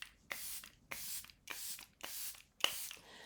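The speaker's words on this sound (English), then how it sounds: "I'm going to go in with my airbrush, Flawless Airbrush Setting Spray from Natasha Denona, or Charlotte Tilbury." Charlotte Tilbury Airbrush Flawless Setting Spray pumped in five quick, evenly spaced hissing bursts, close and fairly quiet, with no talking.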